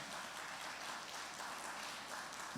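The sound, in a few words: audience applause for the Lord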